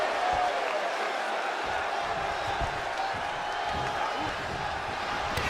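A crowd roars in a WWE 2K23 wrestling match, a dense, steady wash of cheering that fills the whole moment.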